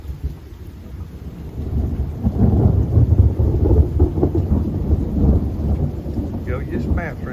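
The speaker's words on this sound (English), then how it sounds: "Oh, there's a good little crack of lightning. But it's a good soaking rain." Thunder rumbles low and heavy through a steady, soaking downpour, the rolling crack building and lingering while rain patters densely throughout.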